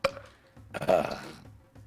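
A single short belch, fairly faint and close, with soft breathy sounds before and after it during a tabletop role-playing game session.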